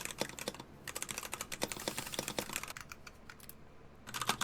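A mechanical keyboard fitted with Hako Violet switches and sorbothane dampening is typed on, a close, steady stream of sharp clacky keystrokes with brief pauses, no voices.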